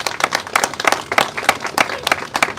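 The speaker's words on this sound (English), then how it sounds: "Let's all give them a round of applause." A small audience claps for health center staff in a round of brief, uneven applause, with scattered sharp hand claps close by and some voices mixed in.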